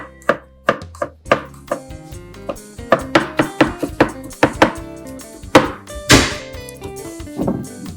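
A knife finely chopping garlic cloves on a cutting board, a crisp rhythmic run of close thunks that speeds up in places, with no talking.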